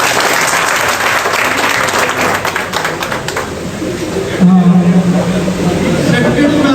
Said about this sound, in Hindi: आप सारे लोग इनके लिए तालियां बजाएं